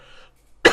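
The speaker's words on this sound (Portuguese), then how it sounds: "Tosse de cachorro aqui." A man gives one sudden, loud cough right at the end after a moment of near quiet, with a faint voice trailing off just before.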